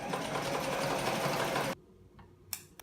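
A sewing machine stitches a T-shirt sleeve in a fast, steady whirring run that stops abruptly, followed by a couple of faint clicks near the end.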